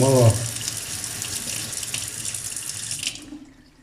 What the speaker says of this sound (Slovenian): malo mrzle vode, da se preparat aktivira